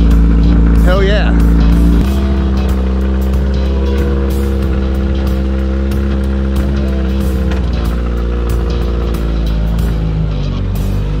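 A motorcycle rides along a road on a late-season November day in the Heartland, its steady low engine drone carrying on without a break, with a voice heard briefly over it early on.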